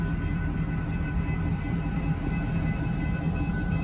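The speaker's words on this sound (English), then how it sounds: "3 trains if you count this locomotive." A railroad locomotive passing on a rural line in Blanchester, a steady, loud, broad rumble with a continuous engine drone and no breaks, heard alone without voices.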